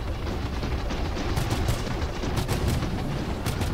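Sawbuck repeater gun in Star Citizen Arena Commander firing in a steady, dense stream of loud, rapid shots, with sharper bursts standing out near the end.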